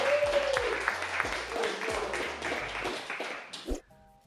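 A small round of clapping from a studio group on a blind dating show, brisk and moderately close with music and some voices underneath, then cutting off abruptly near the end.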